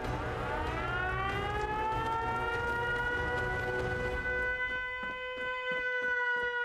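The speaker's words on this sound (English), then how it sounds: "Alright, turn off that damn siren." A video game siren wails loudly, then toward the end its tone stutters into rapid pulsing bursts as rumbling noise drops away; no voices are heard.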